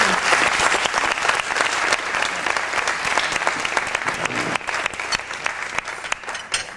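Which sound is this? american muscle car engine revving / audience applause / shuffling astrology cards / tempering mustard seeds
audience applause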